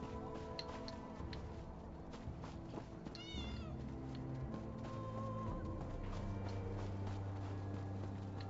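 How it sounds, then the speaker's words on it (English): A cat in the video game Elder Scrolls Online gives a short, faint meow over a soft game ambience with light ticking and footstep-like sounds. "Did that cat just make a gagging sound?"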